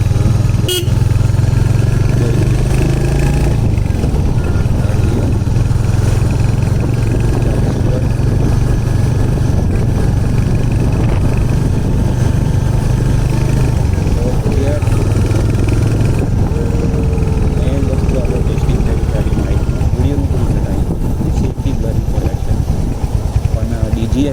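Royal Enfield Hunter 350 motorcycle cruising at 60–70 km/h, a steady loud engine drone mixed with heavy wind buffeting from a chest-mounted rider view, with a brief horn-like tone early on and traffic around.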